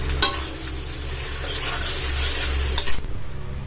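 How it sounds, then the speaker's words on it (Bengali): Tomato and onion fry together in a pan with a loud, continuous sizzle and a few stirring scrapes, ending in a sharp clatter as the sizzle drops. "টমেটো আর পেঁয়াজটা একবারে দিয়ে দিই যাতে পুরোটা সেদ্ধ হয়ে ভাজা হয়ে যায়"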